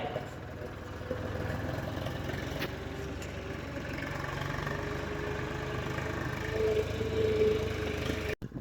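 A tractor engine runs at night on a farm field after manure unloading, a low steady idling rumble that continues throughout at moderate distance, with faint talk over it.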